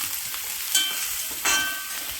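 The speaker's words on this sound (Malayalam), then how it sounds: "നമുക്കൊന്ന് ഇളക്കി കൊടുക്കാം" Brinjal stir-fry being stirred in a hot pan, two distinct scraping strokes over a faint background sizzle, with no talking.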